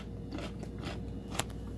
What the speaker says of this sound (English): I don't know if you can hear me crunching that, but it's very firm